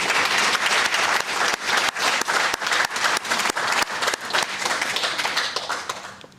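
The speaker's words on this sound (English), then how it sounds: "I think it's safe to say that deserves a round of applause." A conference audience gives a hearty round of applause, many hands clapping loudly and continuously in a crowded hall, with individual sharp claps standing out before the sound tapers off at the end.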